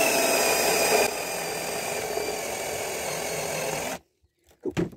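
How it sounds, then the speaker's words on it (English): A drill bores out a spot weld on the rotten boot floor of a 34-year-old Land Rover Discovery 1, a steady loud grinding whir running for about four seconds before cutting off abruptly, followed by a couple of faint knocks. "So I'm just drilling the spot weld so I can pop it off and see how it is."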